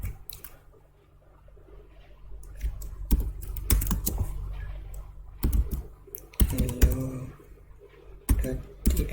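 Someone types on a computer keyboard while working in an Ubuntu terminal, producing irregular bursts of close, crisp key clicks and heavier keystrokes over a low hum, with no voices.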